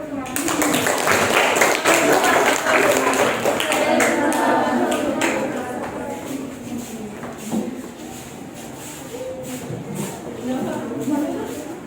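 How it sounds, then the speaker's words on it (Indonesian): Students clap after a group presentation in a classroom, a dense patter that is loudest at first and then thins, with voices talking over it. "Silakan semua tepuk tangan."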